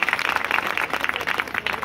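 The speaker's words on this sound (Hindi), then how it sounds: "भाई एक बार इसके लिए सभी साथी तालियां बजाएं।" Short burst of audience clapping at a village gathering in India during an anti-addiction talk, moderately loud, steady and dense for about two seconds.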